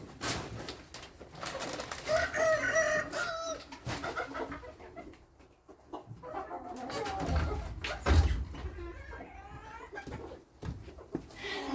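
Chickens in a coop cluck and coo softly amid rustling and shuffling movement, with a person's voice now and then in the background.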